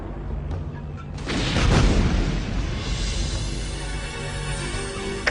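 Cartoon missiles blast in a sudden, loud explosion with a deep rumbling burst. A long roaring, crackling tail follows and slowly settles.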